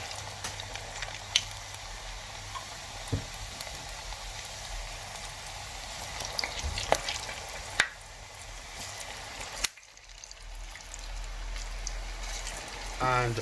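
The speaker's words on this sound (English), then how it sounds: "And allow to fry." Pressed plantain fries in oil in a pot with a faint, steady sizzle, broken by occasional small pops and clicks, heard quietly and close in a kitchen.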